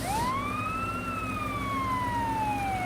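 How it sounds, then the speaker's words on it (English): A police car siren in Lego Batman 2: DC Super Heroes wails continuously, its pitch sliding up then slowly falling, loud and steady with a rumbling engine beneath. "You get the sirens."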